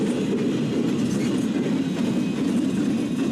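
An NS train rolls past near a street crossing, a loud steady rumble of wheels with faint clickety-clack, close by and continuous throughout.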